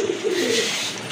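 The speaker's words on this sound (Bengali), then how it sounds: "আরেক জোড়া কবুতর মাশাআল্লাহ বোম্বাই কবুতর" Bombay pigeons coo close by in a short, low, throaty run of warbling notes, alone with no talk.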